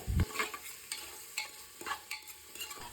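Vegetables for a hotel-style vegetable pulao, with tomato added, fry in a pan, heard as repeated scraping stirs over a faint sizzle in short, irregular bursts.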